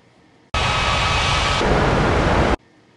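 A jet airliner's takeoff roar in the Unmatched Air Traffic Control game at Ngurah Rai Bali International, a loud broadband rush lasting about two seconds that starts and stops abruptly, with no talk.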